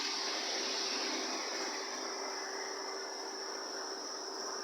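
A steady mechanical whir with a constant high whine from a Hornby GWR High Speed Train model train set running continuously on its track, no voices.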